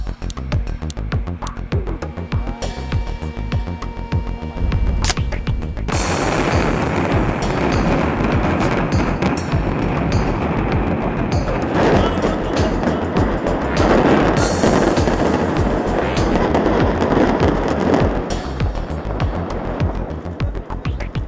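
Explosive detonation blasting rock inside the Grota Funda road tunnel under construction, with a dense, roaring rumble that builds suddenly and persists loud and continuous for many seconds, like rolling rock and echoing blast noise.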